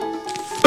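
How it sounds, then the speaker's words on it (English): A single sharp cough bursts out at the end, close and loud, after a brief stretch of quiet hum. "Sorry, ladies and gentlemen, that was a cough."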